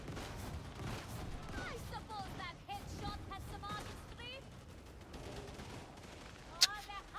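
Gunfire in the video game Darktide rattles in rapid, dense bursts throughout, moderately loud under a steady mix of game noise and a person talking over it.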